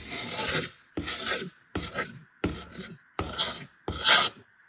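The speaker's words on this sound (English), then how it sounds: "See all this? Scrape it down." Paint scraper rasping flaking old paint off house trim, six firm strokes in a steady rhythm, close and fairly loud with short pauses between each pass.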